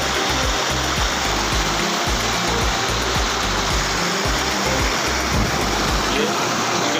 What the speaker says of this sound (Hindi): ये नाला है, अभी पानी भी अच्छा खासा आ रहा है